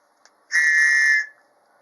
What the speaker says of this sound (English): this is a whistle.